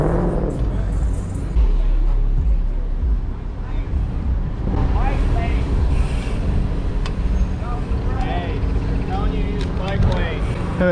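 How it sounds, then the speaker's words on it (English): Wind buffets a bicycle-mounted microphone during a beach-town ride in Myrtle Beach, a constant rumbling roar with faint traffic and people talking now and then beneath it. "It was the wind."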